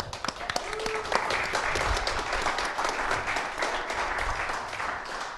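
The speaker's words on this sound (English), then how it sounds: "Round of applause, Crowd Compass." An audience gives a round of applause for a sponsor at an evening tech event. The clapping is dense and sustained and stays steady throughout, with some faint voices mixed in.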